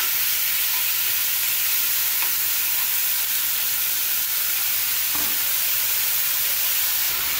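Thin slices of beef sizzle and fry in a pan with broccoli stems nearby, a steady bright hiss with faint crackles throughout, close and continuous.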